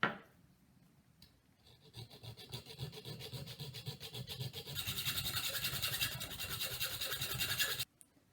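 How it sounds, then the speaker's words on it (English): A handsaw cuts through the end of a homemade wooden WWI trench club in rhythmic rasping strokes that grow louder and faster before stopping abruptly. "Next, I'm going to cut this end off."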